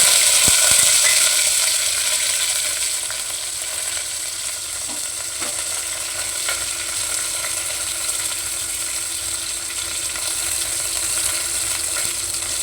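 Mustard seeds and curry leaves sizzling in hot oil, a loud, close, continuous frying crackle with scattered pops, strongest at the start and then holding steady.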